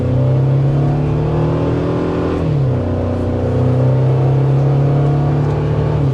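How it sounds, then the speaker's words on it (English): A 2024 Toyota Tacoma TRD Sport with a turbo engine pulls hard, its steady loud drone climbing in pitch, dipping briefly as it shifts, then rising again with a faint turbo whir. "You can hear the turbo working"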